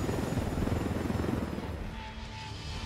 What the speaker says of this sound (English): I'm in the chopper!